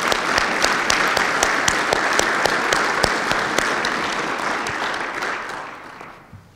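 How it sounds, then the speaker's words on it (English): A ceremony audience applauds a veteran nominee, with sustained, even clapping, a few sharper individual claps standing out, before fading away at the end. "Please join me in a round of applause to show our appreciation for his service."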